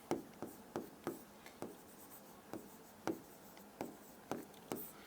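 Pen tapping and scratching on paper while working an integration problem in a Class 12 maths lesson; a steady run of quick, crisp strokes, soft but close, with nobody talking.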